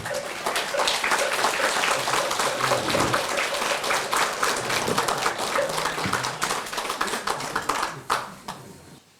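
A seated audience at a Buddhist temple dedication ceremony in Australia claps steadily for the senior monk after his dharma talk. The dense, even applause carries on for several seconds and thins out near the end.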